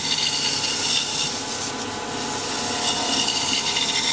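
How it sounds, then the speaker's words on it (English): Wood-turning chisel riding its bevel on a spinning lathe workpiece for a sword part, a steady continuous scraping hiss at even loudness throughout, with no talk. "Rubbing the bevel, pull the chisel towards it."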